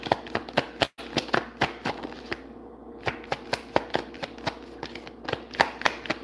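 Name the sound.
shuffling cards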